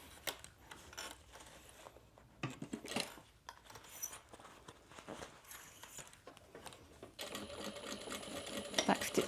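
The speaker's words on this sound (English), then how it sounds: "leaving about an inch where we're sewing as well" A sewing machine stitches a fabric crossbody bag, its fast mechanical whir running steadily and growing denser and louder toward the end, close and clear, with no talk over it.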